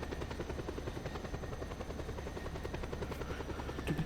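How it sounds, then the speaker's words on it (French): Helicopter in a video game, a steady, rapid thudding of rotor blades that holds at an even, fairly quiet level throughout, with no voices over it. "C'est juste l'hélico fait du bruit."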